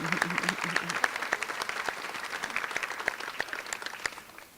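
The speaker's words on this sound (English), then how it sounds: "now I would like our graduates to please stand and really applaud you guys" Graduates standing and applauding the audience at a spring nursing pinning ceremony, a burst of scattered claps from a modest group in a hall, gradually thinning out.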